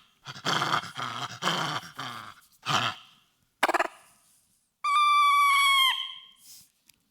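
Recorded macaque monkey calls: several rough, noisy bursts of varied length, then a long, loud tonal scream with stacked harmonics lasting about a second, heard alone with no talk.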